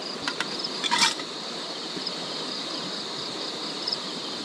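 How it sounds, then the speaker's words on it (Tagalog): A steady bee buzz hums faintly in the background at a bee farm in Malico, Pangasinan, with a couple of brief clicks and rustles near the start. "Bubuyog pa nga."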